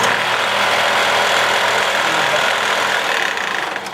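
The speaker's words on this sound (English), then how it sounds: "or I could even turn the belt sander on." A belt sander fitted with a heavy-grit belt runs loud and steady in a shop, a continuous broadband motor whine and grinding roar that holds level and then eases off slightly near the end.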